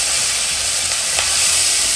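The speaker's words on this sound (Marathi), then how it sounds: "ओके तर आता आपण फोडणी देतो." Spice tempering, or phodni, sizzles loudly in hot oil, a dense and steady crackling hiss heard up close with no voices.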